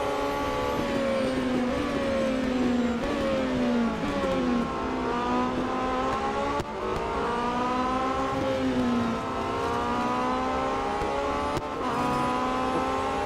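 Race car engines in the Real Racing 3 mobile game drone loudly and steadily through a lap. The pitch rises and sags with each gear change and corner, and no voices come through.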